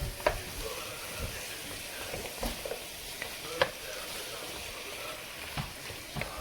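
Baby carrots stirred in a pot for braised lamb shanks, giving soft scraping clicks and a few sharper knocks over a steady low sizzle, no voices.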